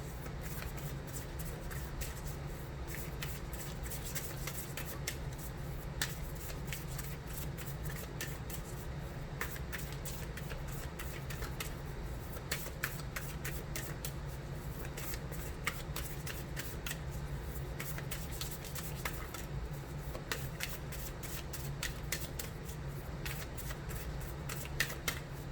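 Oracle cards riffled and shuffled continuously in the hands, a steady, close, soft flutter of card stock with small flicks and no talking.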